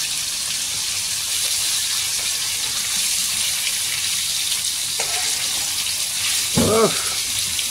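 Hilsa fish fries in hot mustard oil with a constant close sizzle and bubbling hiss, and a brief louder splashy burst near the end.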